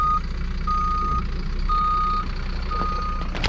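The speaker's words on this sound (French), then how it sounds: "Le camion Catamus Varna Gaz vient d'arriver ici à la Rookies Cup" A truck at the Rookies Cup motocross event sounds its reversing alarm, a steady series of evenly spaced electronic beeps over a low rumbling diesel engine, close and clear with no talk.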